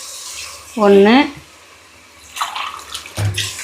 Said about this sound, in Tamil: தண்ணி ஊற்றுறேன் பாருங்கள்